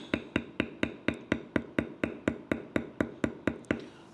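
A beveling tool is struck by a mallet on tooled leather for a canteen purse, sixteen crisp, evenly spaced taps in a steady rhythm, close and clear with no talking.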